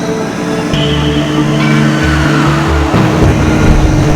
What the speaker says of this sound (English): first level of the game is you're going to be driving your Batmobile on the highway in Gotham City